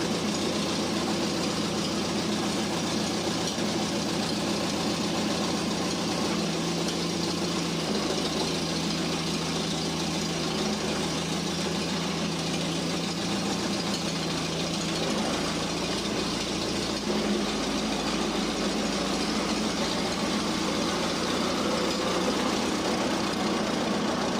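On a cold morning a car's engine idles steadily and close by as it is backed out, a continuous low rumble with a slight knocking vibration and no talking.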